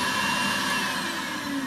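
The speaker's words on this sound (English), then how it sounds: "Here, I put the vacuum on." A Podomonium Jimbo nail drill's built-in dust vacuum runs with a steady, close, whirring motor drone, an even hum with no change in pitch and no talking.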